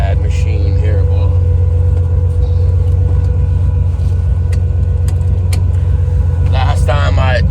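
A car engine rumbles steadily while driving around the block. The low, loud drone runs throughout, with a voice talking over it near the end.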